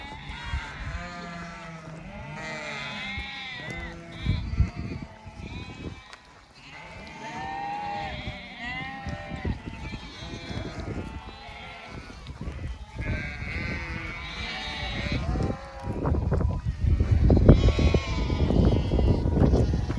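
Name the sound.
Akkaraman sheep flock bleating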